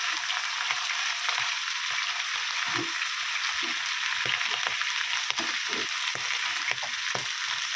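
Leafy greens tempered with garlic fry in a pan, producing a steady close hissing sizzle throughout, with faint occasional stirring knocks.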